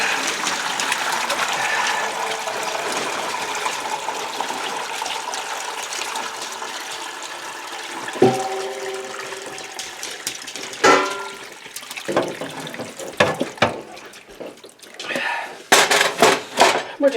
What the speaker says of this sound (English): We're going to strain it into this stock pot.